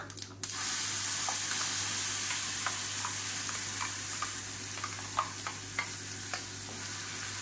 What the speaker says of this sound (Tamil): நல்லா கலந்துட்டு பச்சை வாசனை போகிற அளவுக்கு மட்டும் லேசாக கொதிக்க விட்டால் போதும்